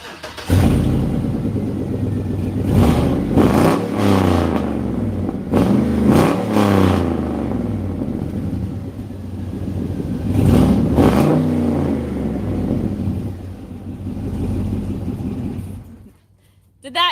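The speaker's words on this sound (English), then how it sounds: "rev it up" A car engine is started and revved repeatedly in several bursts, its loud roar swelling and falling back to idle before cutting off near the end, with people talking over it.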